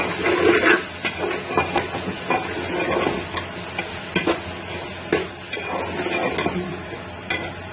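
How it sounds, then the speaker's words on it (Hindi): Keema frying with spices in a pan, a steady sizzle and hiss with repeated close scrapes of a spoon stirring through the meat. "अब इसको अच्छे से मिक्स कर देंगे।"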